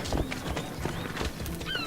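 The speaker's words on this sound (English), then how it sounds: "Weather is horrible, so taking a horse" Horse galloping in the video game Assassin's Creed Odyssey, rapid rhythmic hoofbeats in steady clip-clop under game ambience, with a brief whinny-like tone near the end.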